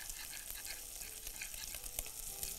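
Pistachios are stirred into a sizzling sauce in a pan for pistachio-sauce chicken breasts, with a continuous soft frying crackle and light stirring scrapes close by.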